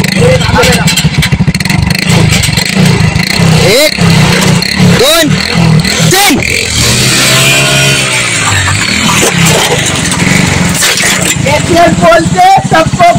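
A vehicle engine revs hard and loud during a tug-of-war contest outdoors, the roar rising and falling under a shouting crowd and an announcer speaking over a microphone.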